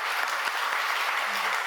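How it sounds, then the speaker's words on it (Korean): Brief, steady applause from a church congregation during a Sunday service, moderately loud and evenly sustained for under two seconds. "우리 수고해 주신 전도사님과 선생님들과 스태프들에게 박수 한번 보내주세요."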